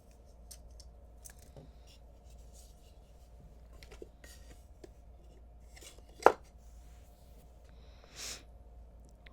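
Jewelry wire is snipped with a single sharp click from the cutter, a brief close crisp snap standing out against quiet handling noises.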